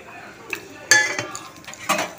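Garlic and dried chilies stirred in hot oil in a pan: a few sharp clinks of a utensil against metal, close and brief, over a low background sizzle.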